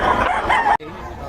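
At a Bocaue poultry market a rooster lets out one loud, close crow that cuts off sharply, followed by a quieter murmur of the surroundings.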